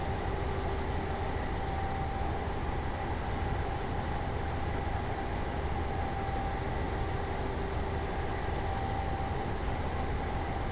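A Valenta HST train in Train Simulator 2017 rumbles steadily along the line near Paignton, its engine held low in notch 1, giving a continuous droning hum with a faint tonal whine and no breaks.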